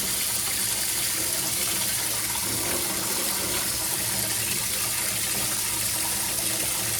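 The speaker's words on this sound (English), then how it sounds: "we're gonna fill this up halfway with cold water" Cold tap water runs steadily into a kitchen sink being filled halfway, a constant gushing, splashing hiss with no breaks and no voices over it.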